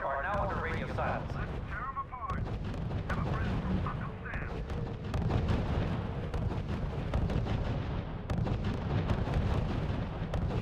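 Artillery opening fire in the RUSE strategy game, a dense, continuous barrage of heavy booming shots and rumbling blasts that lasts throughout, with a voice speaking over the gunfire.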